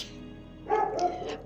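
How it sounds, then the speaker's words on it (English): A dog lets out a couple of quick, fairly close barks indoors after a brief quiet stretch, with faint room noise underneath. "Sorry, this dog is really throwing me off."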